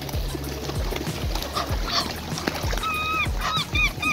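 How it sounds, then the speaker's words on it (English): Egyptian geese at a park lake in Regent's Park, London, give close, loud, repeated harsh honks that come faster toward the end, over background noise. "This Egyptian geese started running towards me even before I saw them."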